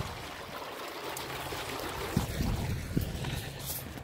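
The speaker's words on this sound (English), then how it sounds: "Little babbling brook." A small babbling brook gurgles and trickles on a wooded disc golf course, a steady close water rush mixed with light wind noise and a few soft knocks.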